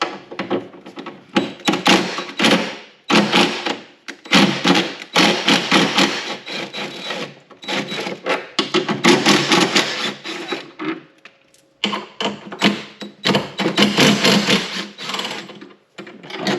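A 10mm socket ratchet loosening saddlebag bolts on a Kawasaki VN1700 motorcycle gives loud, close bursts of rapid clicking, separated by short pauses and handling clatter.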